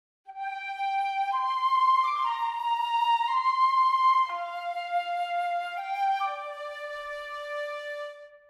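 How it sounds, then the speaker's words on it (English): Flute and piccolo double a slow melody at the same pitch, sustained notes moving in steps with a bright, airy blended tone, close and unaccompanied. "if you have the flute and the piccolo playing at the same pitch"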